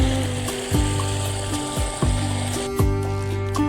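An electric motor pump delivers water into a cumin field, humming with a steady tone and gurgling surges that pulse roughly once a second, close and alone.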